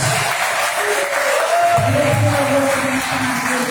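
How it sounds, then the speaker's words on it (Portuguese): Church congregation clapping in worship, a sustained patter of hands with a singing or chanting voice and tonal lines drifting over it. "as palmas é para Jesus"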